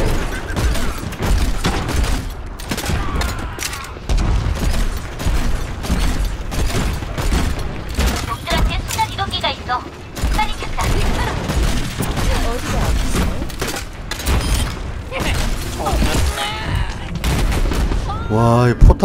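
Turrets firing in an Overwatch match on King's Row: a dense, continuous barrage of gunfire and mechanical shots with booms throughout. A player talks over the shooting.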